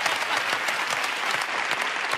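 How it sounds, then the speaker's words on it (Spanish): Dense, steady applause from a Spanish TV show audience, many hands clapping at once, loud and close throughout. "Un aplauso para ellos también."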